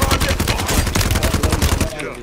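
Gunfire from the video game Warzone comes as a rapid, dense burst of automatic shots, loud and close, then stops abruptly near the end.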